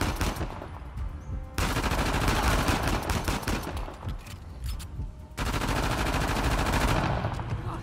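Gunfire rattles in the action game Uncharted: The Lost Legacy, with dense, rapid automatic bursts packed almost back to back, loud and continuous with brief pauses between volleys.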